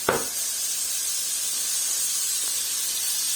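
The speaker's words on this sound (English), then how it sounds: "I'm going to add a knob of this butter here. This is organic butter from Asda." Organic butter sizzling in a hot pan where a sirloin steak of grass-fed beef is cooking, giving a steady, fairly loud hiss that holds evenly from start to finish with no voices.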